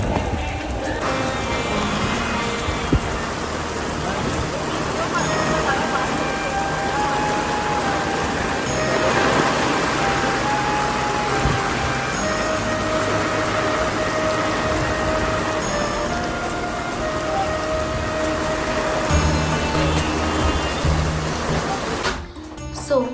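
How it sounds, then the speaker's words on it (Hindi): Heavy rain pours steadily outdoors on a temple visit in Kashi, a dense hiss throughout with faint tonal hum and background noise beneath. "और फिर से बारिश हो रही है"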